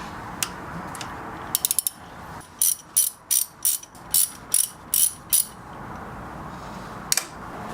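A ratchet with a 13mm socket works on parts of a Mk4 Golf engine during teardown, producing a few quick clicks and then a steady run of about nine loud, evenly spaced ratcheting strokes close by, with one last click afterward.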